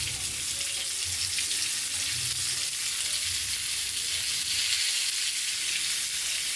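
Chopped onion sizzles in a pan of frying pointed gourd, a constant bright hiss that holds steady and close from start to finish, with no speech.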